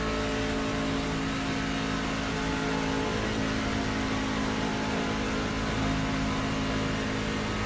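A race car engine howls on a qualifying lap in a NASCAR video game, a loud continuous steady drone holding throughout with no talk over it.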